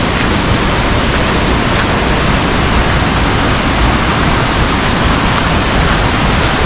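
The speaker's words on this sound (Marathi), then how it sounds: "धबधबा जवळ आला" After rain, the swollen Mandale waterfall sends up a dense, constant roar of rushing water that fills the whole scene at close range and stays loud without letup.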